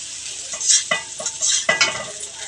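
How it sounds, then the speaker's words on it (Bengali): Beans and carrots stir-frying in a pan for vegetable fried rice, with a constant sizzle and several scraping stirs of a spatula close by. "বিনস আর গাজর আমার হালকা ভাজা হয়ে গেছে"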